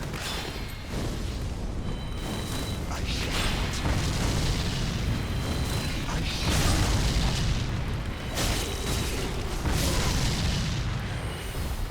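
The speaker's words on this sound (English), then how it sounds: "Does so much damage, the explosion, it's almost worth using it just twice, like just slamming it down." Weapon explosions from the Spear of the Church fight in Dark Souls 3's Ringed City DLC give sustained loud booming blasts that roll and rumble over about twelve seconds, dense and continuous with no speech.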